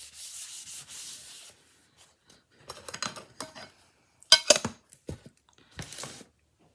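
Hand rubbing over a wooden welcome sign, a series of short dry scuffing strokes, close and moderately loud, in irregular bursts separated by brief pauses.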